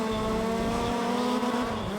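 Peugeot race car engine in Need for Speed ProStreet, a steady sustained drone holding a tight pitch, loud and close throughout with a faint hint of tyre noise.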